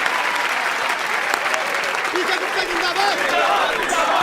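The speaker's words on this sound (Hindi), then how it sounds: "तालियां तालियां" Lively audience clapping during a comedy scene, a full, close burst of applause with voices calling and talking over it throughout.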